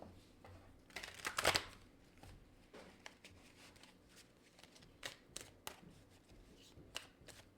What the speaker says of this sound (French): Je vais aller chercher une autre carte pour l'énergie de cette personne.